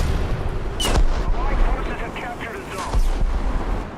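Heavy booming artillery fire in a tank video game, with deep rumbling blasts around the one-second and three-second marks over a continuous low roar, loud and close, with a voice talking underneath.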